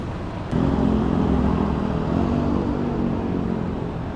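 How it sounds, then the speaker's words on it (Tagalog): Road traffic at an intersection on JP Rizal heading toward Marikina, a steady engine rumble that swells in suddenly and keeps running, close and fairly loud with no talk. "So, dito yung traffic sa intersection."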